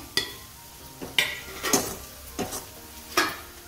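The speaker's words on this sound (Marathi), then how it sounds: "हे सगळं तेलात छान परतून घ्यायचं आहे." Jackfruit vegetable masala with turmeric and chutney sautéing in oil in a pan, with a soft sizzle under five sharp scrapes and clinks of a spoon stirring against the pan.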